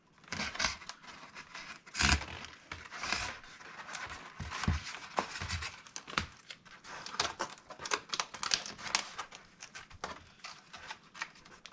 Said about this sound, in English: Okay, I'm going to grab a piece of tape.